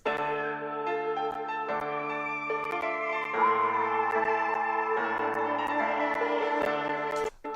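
A Cakewalk-produced beat melody of layered sustained synth tones, busy with many overlapping voices and sharp clicking transients scattered throughout, steady and loud with no talking.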